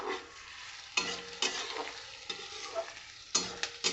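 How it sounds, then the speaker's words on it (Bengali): Chopped onions frying in a pan and being stirred, a soft sizzle with several sharp scraping strokes of a spoon at irregular intervals, close and alone. "এবার পেঁয়াজটাকে আমি একটু লাল করে ভেজে নেব"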